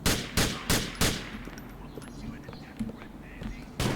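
Gunshots ring out in GTA: The Lost and Damned. Four sharp, loud bangs come in quick succession, then smaller scattered shots and game noise follow, and a final loud blast lands near the end.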